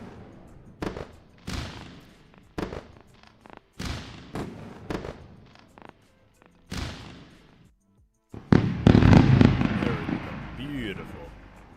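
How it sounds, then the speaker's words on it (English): Celebratory fireworks sound effect, a rapid series of sharp crackling bursts and pops that build into a dense, loud barrage near the end, with no one talking over it. "Let's go, everyone, with the fireworks."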